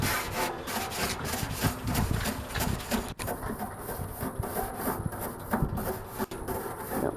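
A cheap, bending wire brush scrubs greasy grill grates in rapid back-and-forth rasping strokes, loud and close, continuing steadily with a brief break partway through and no talking.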